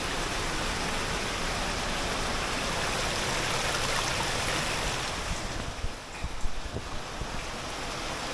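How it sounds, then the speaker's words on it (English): Water gushing out of rock below a waterfall rushes in a loud, steady broadband roar, close and continuous, easing slightly near the end, with no talk. "Over here, there's tons of water coming out of the ground as well, out of the rock."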